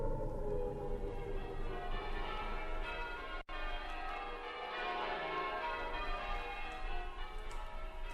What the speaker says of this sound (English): As the bells rang out on that last day of the old century